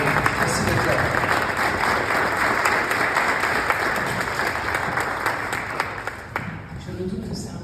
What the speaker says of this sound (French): on va les applaudir. Bravo.